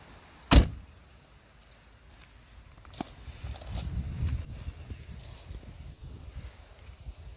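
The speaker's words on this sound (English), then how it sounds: "Back up, we'll shut this door" A door on a Pontiac G8 GT shuts with a single sharp thump, followed by quieter rustling and movement nearby.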